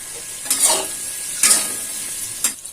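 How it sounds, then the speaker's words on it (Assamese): Soybeans sizzle frying in a pan with three stirring scrapes at roughly even intervals, each swelling the hiss of hot oil, with no talking. "এতিয়া মই সোয়াবিন ভাজিছিলো"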